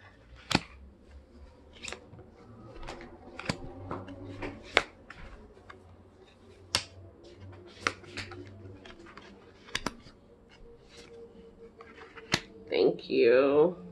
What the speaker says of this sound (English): I'm going to go ahead and flip the cards